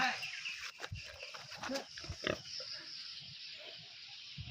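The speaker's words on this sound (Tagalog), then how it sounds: "Inahing baboy ko." A sow pig grunts close by in a series of short, low, irregular bursts, with faint background noise and no clear talk over them.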